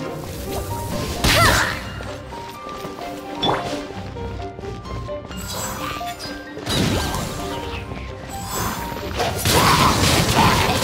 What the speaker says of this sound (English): Barrels over there? Well, one shot should be able to blow them up!